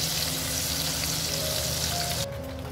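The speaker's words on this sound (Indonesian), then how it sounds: "Selanjutnya ini bumbu sambalannya saya goreng ya. Ini gunakan api yang kecil aja supaya nggak cepat gosong" Chili sambal spice paste frying on low heat in a pan gives a steady, close sizzle and crackle that drops to a quieter hiss near the end.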